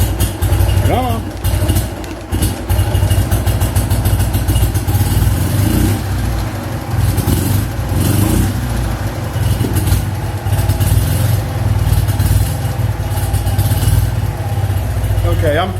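A BMW R50/2 motorcycle engine, not yet warmed up, runs loudly and roughly close by with an uneven idle and brief throttle blips that never smooth out.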